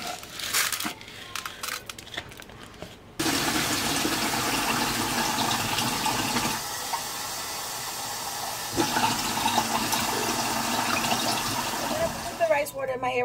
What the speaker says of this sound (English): Let me just plop the rice in here.